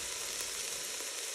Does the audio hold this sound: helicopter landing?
no